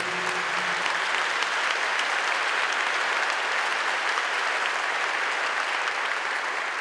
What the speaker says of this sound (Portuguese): Podemos aplaudir o Santo Evangelho